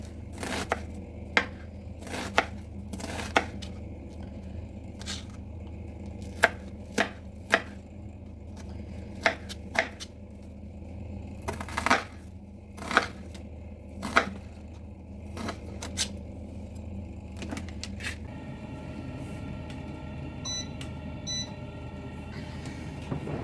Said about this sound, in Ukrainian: Так, крышу цибуля. Четвертинку.